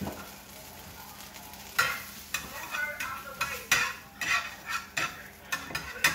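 Butter sizzles in a heated frying pan, a steady soft hiss broken by several sharp bursts of stirring and scraping that come and go close by, with no voices.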